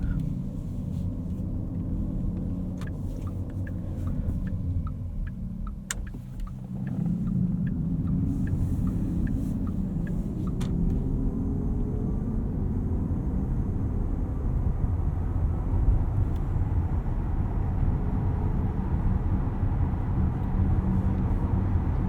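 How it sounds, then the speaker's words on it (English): A 2024 Porsche Cayenne Turbo E-Hybrid Coupe accelerating on its electric motor: a low, steady road rumble rises in pitch as speed builds, with faint clicks early on and no engine roar or voices. "Decent acceleration there from the e-motor"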